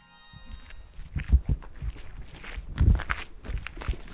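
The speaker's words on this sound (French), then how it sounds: "On va marcher sur les glacis autour du fort." Footsteps on the glacis surrounding a 19th-century fort, a steady series of close, soft treads on outdoor ground, some landing heavier than others, with no talking.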